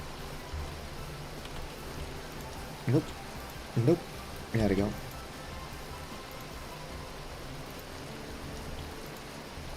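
Steady hail pattering down outside through the whole stretch, a dense broadband wash of impacts, with a few short spoken words breaking in over it partway through.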